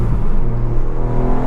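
Ford Fiesta ST with a 1.5-litre three-cylinder turbo engine and Scorpion exhaust, giving a loud, steady low engine drone with a constant throaty hum throughout.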